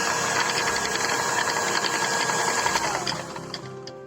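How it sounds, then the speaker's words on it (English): Electric hand mixer whirring steadily through cake batter made with oil, a loud continuous motor drone with rattling beaters that eases off slightly near the end. "Mix until it is combined."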